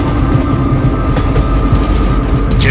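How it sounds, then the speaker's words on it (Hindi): Train running at full speed, loud and close with a dense rolling rumble of wheels on track, steady clickety-clack and a faint metallic squeal near the end. "ट्रेन अपनी पूरी रफ्तार से दौड़ रही थी।"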